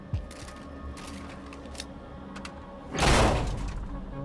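A door in the video game Quantum Break opens with a sharp thunk, then a loud sliding rush, over low ambient rumble and scattered faint clicks.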